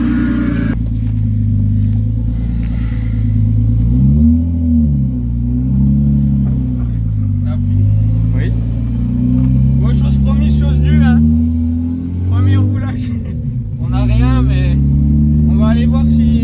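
A turbocharged BMW E36 engine idles with a deep, loud rumble in an engine bay, rising and falling through several revs, while people talk over it.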